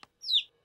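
A single short rising-falling chick chirp, bright and clear, sounds once after a brief soft tap, in a cartoon setting where a stethoscope is used on a chick patient.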